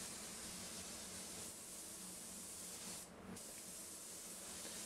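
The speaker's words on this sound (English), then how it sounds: "let's just do a test spray and then you can start spraying" Continuous hiss of a paint spray gun laying car paint on a Land Rover Discovery 4, a steady close rush of air with a brief dip partway through.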